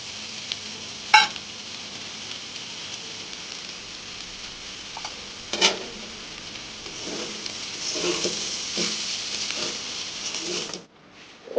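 Oats tipped into a wok of frying vegetables, giving a steady sizzle with a few sharp clatters and stirring scrapes near the end before it cuts off. No one speaks.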